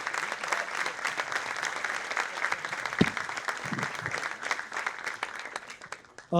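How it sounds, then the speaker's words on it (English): A theatre audience at an evening performance applauds in a dense, continuous wash of clapping, a few sharper claps standing out, before a sudden brief tone cuts in right at the end. "Let's have a round of applause for all the guests, teachers, and one for yourself for being part of this evening today."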